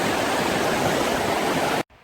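A river crossed on a mountain hike toward a lake with waterfalls rushes in a steady, loud broadband roar close by, then cuts off abruptly near the end.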